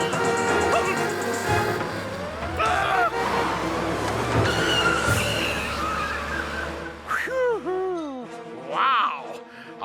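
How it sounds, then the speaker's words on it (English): Cartoon car chase with a car striking a fruit vendor's push cart: a loud engine roar and skidding rush build to clattering impact noises, followed by squeaky, bouncing tones of debris. "It's one of those crummy car chase scenes where the car hits the fruit vendor's push"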